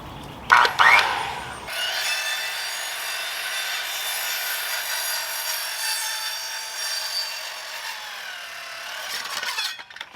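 A circular saw whines steadily through wood for about eight seconds, a loud continuous buzzing cut preceded by brief knocking and ending with the blade spinning down.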